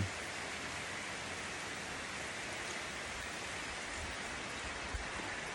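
Heavy rain falling steadily as a dense, even hiss, constant and close throughout with no voices.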